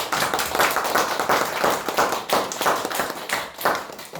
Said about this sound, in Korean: 우리 박수 한번 크게 하시죠.